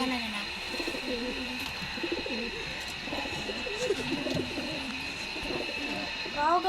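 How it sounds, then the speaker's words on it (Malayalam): Pigeons coo close by in soft, repeated rolling phrases, running throughout over a steady background hum, with a person talking now and then. "അതെന്നെ അടിപൊളി പ്രാവുകളല്ലേ"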